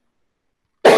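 A single sharp cough bursts in near the end after near silence, close and loud, from someone speaking Indonesian while fasting.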